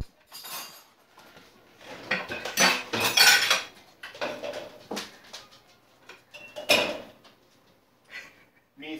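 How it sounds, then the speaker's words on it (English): Dishes and cutlery clatter and clink in a series of loud, irregular bursts of rattling metal and crockery, close by, with short pauses between the clusters. "Methinks the dishes are out of control."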